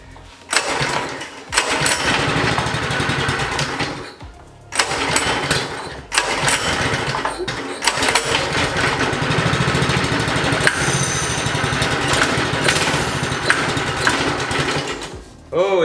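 A small go-kart engine running on starting fluid, a loud, close, raspy putter that cuts out briefly twice, then sputters back to life and holds a rough, uneven run, with a voice now and then.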